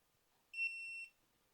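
XTOOL IP500 BMW bidirectional OBD2 scan tool giving a single clean electronic startup beep, a short high steady tone of about half a second in a quiet room.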